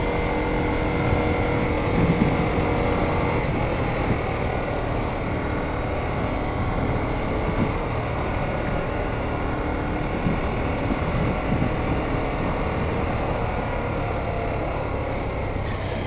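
A Harley-Davidson Sportster S motorcycle rides on the road, its engine giving a steady, continuous roar mixed with rushing wind noise. No clear surge in revs stands out.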